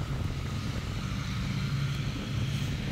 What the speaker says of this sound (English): Wow, it's windy out here today